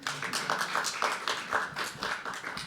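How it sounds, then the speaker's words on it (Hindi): An audience at a live poetry open mic claps in a rhythmic burst of repeated hand strikes, moderately loud and close, with no talking over it. "वैसे तालियां बजानी हो तो बजा भी सकते हैं,"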